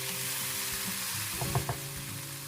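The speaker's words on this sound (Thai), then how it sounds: "จากนั้นก็ผัดต่อให้แห้งอีกครั้งหนึ่งค่ะ" Shiitake mushroom filling for curry puffs is stir-fried in a pan until dry, a continuous close sizzle with a few scraping stirs of the spatula near the end.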